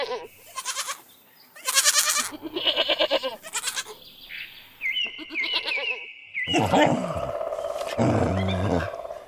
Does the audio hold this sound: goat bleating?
yes